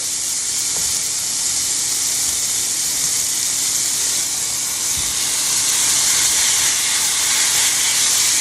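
Burger patties sizzle in a hot skillet, giving a continuous, close, bright hiss that swells slightly toward the end, with a faint tap or two and no talking.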